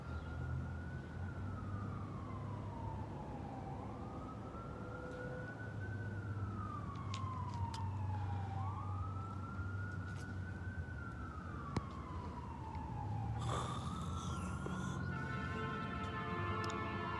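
A wailing siren rises and falls in slow sweeps over steady traffic rumble, growing louder and harsher toward the end as it seems to pass close by.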